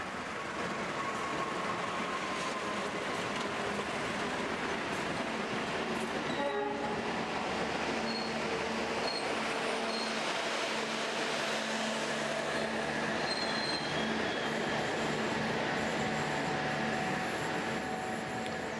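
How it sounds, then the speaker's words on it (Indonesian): The Pangrango passenger train shunts along the rails near Bogor station, giving a continuous steady rumble and rolling clatter at moderate distance, with a brief horn-like tone partway through and no voices. "Kereta api Pangrango pulang langsir dari Bogor ke Palembang."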